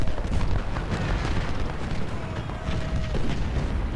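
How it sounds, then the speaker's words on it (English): Howitzers and 12-pounder cannons fire in a Civil War strategy game during the siege of Suffolk, heard as a steady rumbling barrage of distant booms that blend into a dense battlefield roar. "Howitzers, shoot at Jenkins. 12 pounders, shoot at Armistead."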